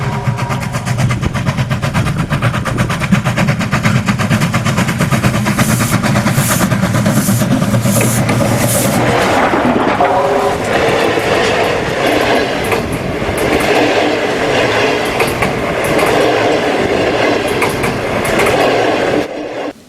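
A Chinese QJ steam locomotive rolls past loud and close with clattering wheels and rapid rhythmic clicks, then the sound opens into a fading, airier rumble as the train moves on.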